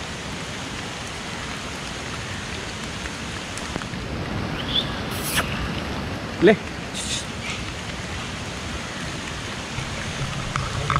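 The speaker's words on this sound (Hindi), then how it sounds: "बारिश अचानक से तेज हो गई" Heavy rain pouring at a wildlife sanctuary in Goa, a dense, steady hiss of downpour filling the scene, with a brief sharp knock and faint voices briefly heard over it.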